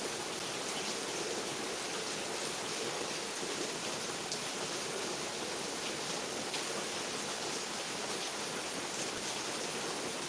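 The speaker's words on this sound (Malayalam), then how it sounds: "ഇപ്പം മഴയുടെ ശക്തി കുറച്ചൊന്ന് കുറഞ്ഞു കഴിഞ്ഞ് പിന്നെ ശക്തി കുറഞ്ഞ് അല്പനേരം നിന്നിട്ട് പിന്നെ ഭയങ്കര ശക്തിയിൽ പെയ്യും" Heavy December rain pours down in a steady, dense hiss that stays even and unbroken throughout, close and uniform with no voices over it.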